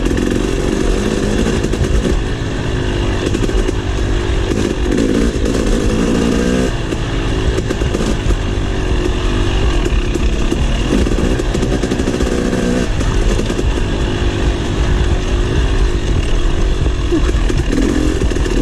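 A KTM 300 XC two-stroke dirt bike being ridden on a wet, angled trail ride in West Point, Tennessee, its engine buzzing loud and close throughout, with throttle rising and falling.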